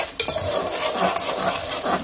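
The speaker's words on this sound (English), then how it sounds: "Let's mix it once so that it's nicely fried." A spoon scraping and stirring peanuts and chana dalia as they fry in a pan, with soft sizzling and repeated clinks and scrapes against the metal.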